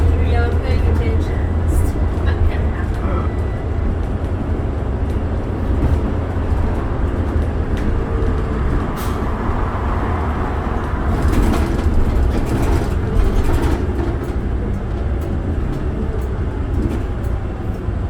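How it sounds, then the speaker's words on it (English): Calgary Transit 2008 New Flyer D40LF diesel bus rolling over a bumpy road, a continuous low engine rumble with rattles and clunks from the body, while people talk over it. "Bus is really smooth otherwise. Yeah, this road is so bumpy."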